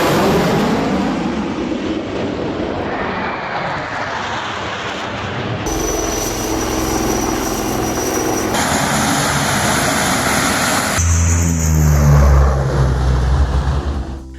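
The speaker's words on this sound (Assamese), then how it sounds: "আকাশত যুদ্ধ বিমানৰ অনুশীলন।" Fighter jets flying low over an emergency landing strip built on a highway during an air force exercise, a loud continuous roar that shifts in character partway through and swells with a heavy low rumble near the end.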